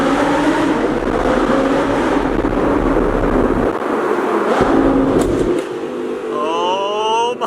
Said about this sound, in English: listen to the beautiful FI exhaust on the R8 V10